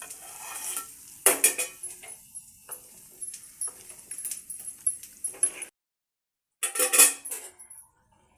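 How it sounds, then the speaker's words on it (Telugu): Hot cumin and turmeric tempering tipped from a small pan into spinach and toor dal, with clinking metal utensils and brief sizzles in bursts, a pause, then a final clatter, all close and free of talk. "ఇప్పుడు పప్పులో గుమ్మరించుకోవాలి"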